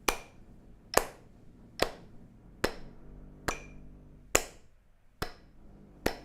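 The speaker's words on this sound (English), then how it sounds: "Or clap." Single hand claps land on a steady metronome-like beat during singing practice, about eight sharp, evenly spaced claps close and clear over a quiet background.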